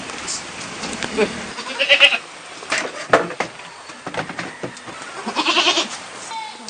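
Goats bleating intermittently as they are herded toward their pen before dusk on a rural Philippine farm, with scattered calls near and farther off, mixed with rustling and brief talk.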